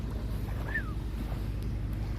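Large boat on the water, a steady low engine drone with wind rumbling over the microphone, continuous and fairly loud throughout, with a brief faint whistle-like chirp.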